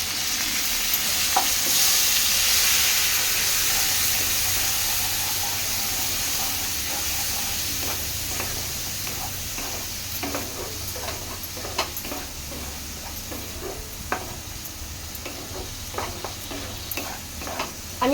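A little water goes into frying spice paste for a prawn and banana-flower dish, setting off a loud hissing sizzle that slowly settles while a spatula scrapes and stirs in scattered clicks, close up and with no talking.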